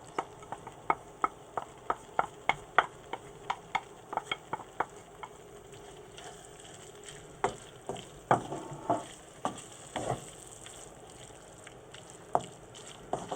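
A seafood mix of mussels and king prawns being stirred into spaghetti sauce in a pan, with repeated sharp scraping and clinking strokes in a steady rhythm over a soft sizzle, spacing out and turning into scattered knocks later.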